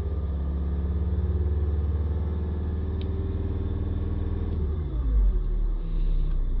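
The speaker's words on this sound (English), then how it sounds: "Let's accelerate it up a little bit." Car engine idling with a steady low rumble, then rising briefly in a short acceleration near the end, close and fairly loud with no talk.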